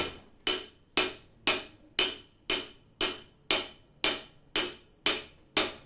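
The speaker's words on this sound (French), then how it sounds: "ça va être fait avec des marteaux d'acier sur des grands billots" Steady, evenly spaced steel hammer blows ring out on a silver dish over large wooden blocks, about two per second, each strike bright and clanging with a short decaying ring.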